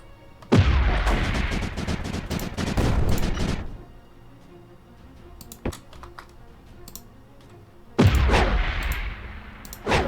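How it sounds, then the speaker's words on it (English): Ominous explosions in the strategy game Creeper World 4: a long rumbling, crackling blast lasting about three seconds, a few sharp isolated pops in between, then another heavy booming blast near the end. "It's just that sound of that ominous explosion going off"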